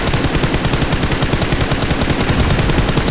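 Sustained rapid automatic gunfire in the PUBG Mobile battle royale game, a dense, continuous burst of shots lasting the whole moment, loud and close with no talking over it.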